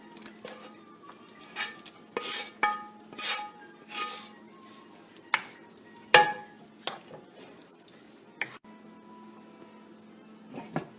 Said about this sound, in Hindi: ये सारा चिकन डाल लें इनमें।